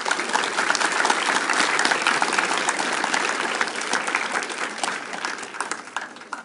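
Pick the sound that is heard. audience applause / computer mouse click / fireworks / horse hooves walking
audience applause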